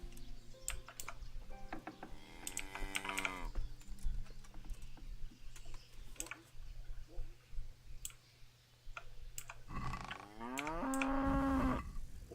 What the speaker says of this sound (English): Oh, shush, cow.